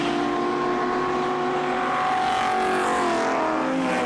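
Touring cars racing at the Gerry Marshall Trophy, including a damaged Ford Capri, with engines droning loudly and continuously, pitch rising as they accelerate and passing close by.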